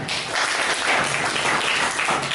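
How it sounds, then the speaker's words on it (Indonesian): Classmates applaud a student after a presentation in an Indonesian language lesson, a steady patter of many hands clapping close by, filling the room evenly with no talk. "Oke, tepuk tangan buat Safwan"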